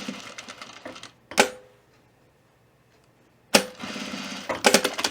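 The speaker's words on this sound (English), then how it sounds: "I'm going to use my straight stitch machine." A straight stitch sewing machine running through fabric on a V-neck corner, two rapid rattling bursts of needle strokes, close and fairly loud, with a quiet pause between them and no talk.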